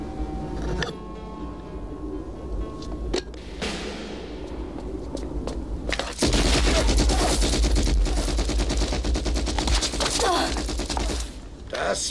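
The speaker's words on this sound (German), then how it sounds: "Das war nur eine Kanone." Cannon fire in a Captain America film: a heavy boom breaks in over quieter sounds, and then a loud, sustained barrage of blasts and crackling debris follows for several seconds before easing off.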